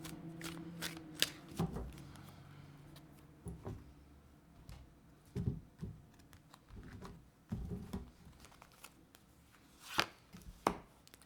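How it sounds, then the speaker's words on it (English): Cards being shuffled in quick bursts, a riffling, papery patter repeating several times with short pauses between, close and fairly quiet. "Give it one more shuffle."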